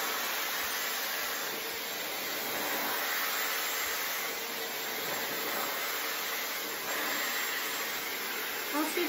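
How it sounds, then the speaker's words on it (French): A hair dryer blows steadily while a fringe is styled over a round brush, a continuous broadband whoosh held at an even level for several seconds, close and without speech. "Brosse ronde, sèche-cheveux, c'est parti."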